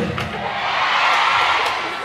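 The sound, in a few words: crowd cheering and shouting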